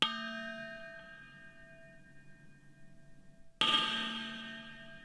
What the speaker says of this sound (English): You can split the reverb and delay on the magic wand effect, so that going clockwise with the knob gives you reverb only